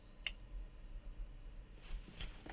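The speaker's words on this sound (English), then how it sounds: "So that should click now." A relay in an Arduino-built heat controller for a heat-store pump clicks on with one sharp, close tick, followed by quiet hum and a few faint later clicks.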